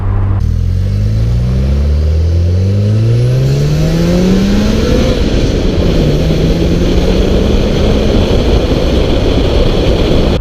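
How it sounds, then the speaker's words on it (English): A 1991 Mazda RX-7 FC Series 5 Turbo II rotary engine revs loud and close, its pitch climbing steadily through a long pull, then easing slightly and holding at a high, buzzing drone with no talk. "The Mazda RX-7 rotary engine."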